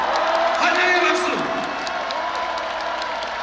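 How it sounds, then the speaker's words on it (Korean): A crowd at an outdoor presidential campaign rally in Yongsan, Seoul, claps and cheers in a broad, continuous roar, with shouts rising above the noise. "박수 한번 주세요."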